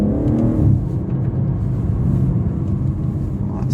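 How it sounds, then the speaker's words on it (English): A BMW M140i with an M Performance exhaust revs and upshifts, a loud, close engine note that drops after the shift and settles into a steady rumbling drone, with no voices. "that sweet upshift with a little pop on the M Performance."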